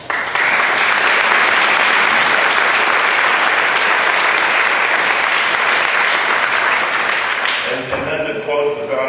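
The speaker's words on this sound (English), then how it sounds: "I think it's appropriate to extend a round of applause first to the Batten School and President Sullivan for making this happen." An audience at a town hall meeting breaks into sustained, loud applause that fills the room for several seconds, then fades out as a voice begins to speak.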